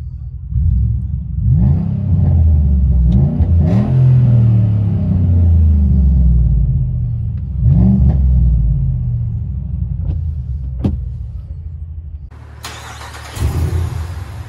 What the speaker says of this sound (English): Let you guys hear on the inside. Inside the Dodge Power Wagon.